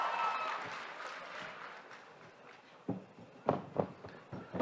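Applause and crowd noise in San Diego Comic-Con's Hall H at the Arrow and Gotham panels, loudest at first and then fading, followed by a few sharp claps or knocks.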